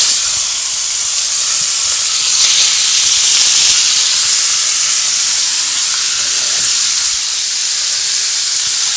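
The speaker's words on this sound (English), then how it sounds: "And then I'm just going to pan fry it. I have it on hot." Food pan-fries on high heat in a hot pan, giving a loud, steady sizzling hiss that holds even throughout.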